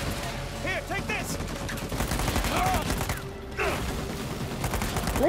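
Gunfire in Uncharted 4, with rapid close shots and bursts popping throughout amid clattering mechanical noise, while characters shout and talk over the firefight.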